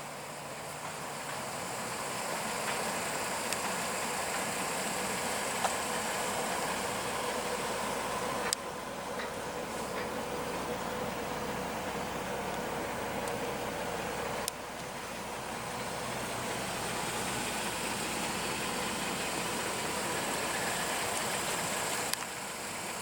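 A 2008 Mercedes-Benz ML350 with a 3.5 L V6 idles after start-up, a steady soft low hum with hiss under it, broken by a few faint clicks.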